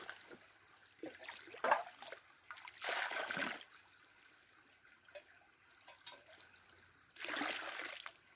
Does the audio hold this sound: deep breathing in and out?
no